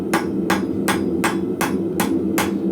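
Light blacksmith hammer blows on a tapered old car spring, seven evenly spaced metallic strikes about every third of a second over a steady background hum, close and clear with no talking.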